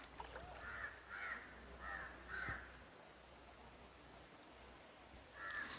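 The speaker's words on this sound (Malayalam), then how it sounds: "കാക്കകളും കിളികളും" By a river, a crow gives a series of four harsh caws, then one more after a pause. The calls sound moderately distant over a faint, steady background hush, with no talk.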